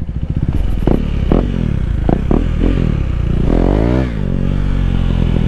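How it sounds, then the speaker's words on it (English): A KTM Duke 390 motorcycle engine revs hard through a wheel spin, a loud, close, rising and falling roar with clattering and scraping, no talk over it. "Wheel spins on the Duke 390."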